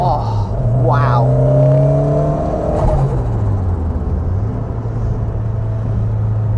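A stage 3 rear-wheel-drive Ford Sierra RS Cosworth drives close by, its loud engine rumbling and revving through gear changes with rising and falling pitch, steady and unbroken throughout.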